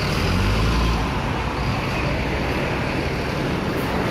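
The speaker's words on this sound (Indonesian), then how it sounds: "Ini kelihatannya bus pariwisata ya." Bus at Purboyo bus terminal in Madiun, Indonesia, a steady loud engine rumble and road-like roar that is heaviest in the first second, then holds evenly without voices.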